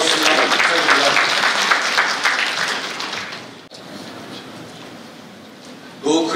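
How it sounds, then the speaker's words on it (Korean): An audience at a blockchain and AI tech summit session gives a round of applause. The loud, dense clapping fades over a few seconds into quiet room tone, and a short burst of sound returns at the very end. "큰 박수 부탁드립니다."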